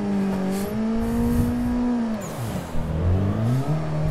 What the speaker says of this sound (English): Initiate second gear and initiate the drift.